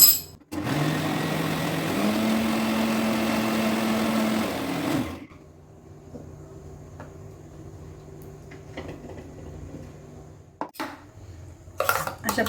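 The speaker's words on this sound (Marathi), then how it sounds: "प्रकारे मिक्सरमधनं सर्व बारीक करून काढायचं आहे" A kitchen mixer grinder blends pumpkin for dosa batter, its loud, steady motor whine running for about five seconds with one shift in pitch, then cutting off to a quiet room with a few light clinks.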